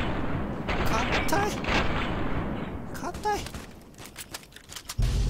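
In the video game Fallout New Vegas, a battle erupts with booming explosions and gunfire, first as a dense, rumbling barrage, then as sharper scattered blasts, while someone speaks briefly.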